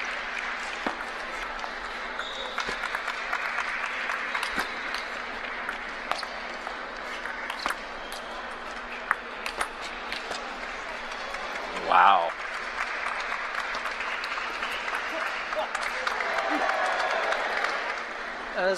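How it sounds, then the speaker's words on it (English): Applause from spectators during a men's singles table tennis match, a light steady patter of clapping that runs throughout at moderate distance, with a commentator talking over it. "Now he's clapping."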